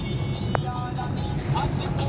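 Car driven slowly along a narrow village road, a low steady engine hum and road rumble heard from inside the cabin, with a brief sharp click partway through.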